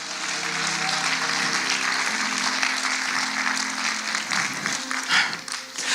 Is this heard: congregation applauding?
yes